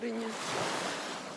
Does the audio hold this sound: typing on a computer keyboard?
no